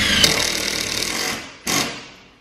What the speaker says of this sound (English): self-drilling, self-tapping metal screws to hold our shot in place